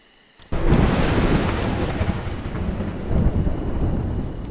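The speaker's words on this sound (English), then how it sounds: "Mud, thunder and lightning are terrible opponents." Thunder and heavy rain in the video game A Juggler's Tale burst in after a brief quiet moment, then a loud, steady storm roar with rumbling swells continues.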